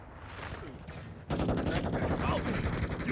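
Dense gunfire in a Call of Duty match, starting as distant rattling and jumping into loud, continuous close-range shooting partway through, with voices mixed underneath.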